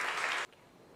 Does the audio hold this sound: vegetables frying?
no